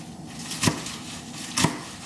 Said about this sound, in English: we're just going to chop it up in little pieces like that